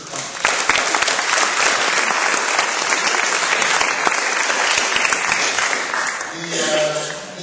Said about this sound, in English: let's give yourselves a round of applause for being part of the democratic process